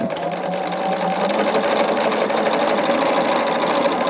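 A sewing machine runs steadily and loudly throughout, quilting a large quilt with an even, continuous mechanical hum.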